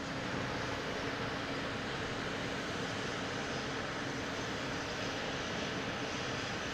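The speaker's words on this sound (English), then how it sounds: "We got a JetBlue line up on 22 right, heading to San Diego, an A321neo, flight 619." A JetBlue Airbus A321neo takes off from runway 22 Right at Boston Logan, bound for San Diego. Its jet engines give a steady, distant, broad roar throughout, and no one speaks.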